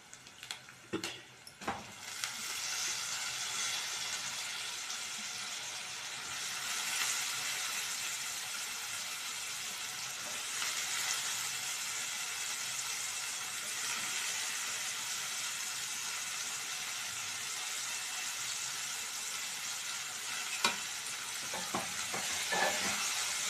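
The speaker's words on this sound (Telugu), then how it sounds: "ఇప్పుడు ఆలుగడ్డ ముక్కలు వేస్తాం" Potato pieces frying with onions in a pan for aloo shanaga curry give off a continuous close sizzle, with a few clattering knocks as they are added at the start.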